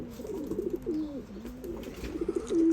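Soft, repeated cooing of pigeons nearby, throaty rolling calls one after another with no talking.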